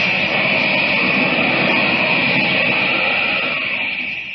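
Steady roaring whoosh standing in for Superman taking off into the air in a 1940 radio drama, a loud continuous jet-like rush that holds level and eases slightly at the end, alone without voices.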